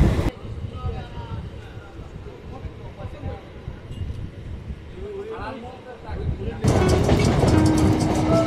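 Sealdah–Bangaon line suburban train pulling out of Machhlandapur station, a steady rumbling rail-car drone with faint clatter and background voices, growing louder and harsher near the end.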